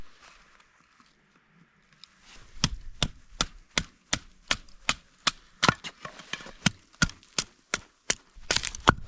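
Firewood being split at a snowy winter cabin, a fast, steady series of roughly sixteen sharp wooden cracks and thuds, each crisp and close, in an otherwise quiet setting.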